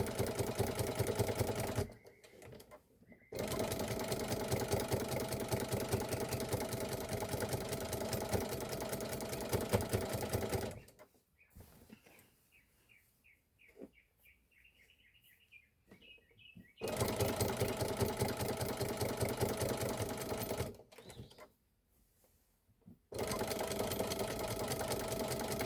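A sewing machine quilts in fast, even runs, stopping briefly several times between bursts, close up with no talking.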